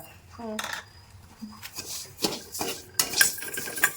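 A spoon clinks and scrapes against a pan while urad dal, cumin and spices dry roast, in irregular metallic taps and stirs at close range, with a brief voice in the background.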